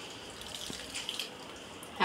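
Water poured off from a cooking pot, a faint, steady splashing rush that swells louder right at the end.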